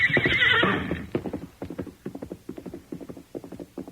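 A horse whinnies loudly in an old radio western drama, then hooves clip-clop in a steady, close rhythm as the horse approaches, with no voices.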